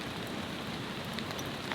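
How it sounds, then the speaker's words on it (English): Steady, dense patter of light rain drumming on a steaming tarp awning at a car tent campsite, a soft continuous hiss with scattered closer drops in a faint breeze. "Bit of rain, nothing too heavy."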